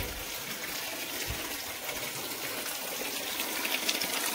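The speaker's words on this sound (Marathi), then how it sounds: "इथे नंदीचं मुख आहे. पाणी येते इकडून. थंड पाणी एकदम." Cold stream water pouring from a stone Nandi-head spout at a temple, a faint, steady gushing splash that runs on without a break, quiet and somewhat distant.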